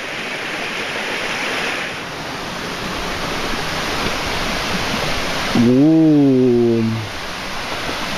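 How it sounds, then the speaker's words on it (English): A waterfall roars steadily as a broad, loud wash of falling water on a beach vacation in Punta Leona, Costa Rica, with a brief exclaimed voice near the end. "Waterfall time."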